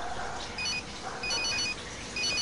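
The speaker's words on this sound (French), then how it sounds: "Oh, téléphone." A telephone rings faintly in the background as short bursts of a thin electronic ringing tone, repeated in a rhythmic pattern behind steady room noise, with no talk.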